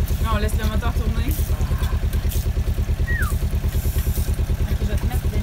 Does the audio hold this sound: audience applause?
no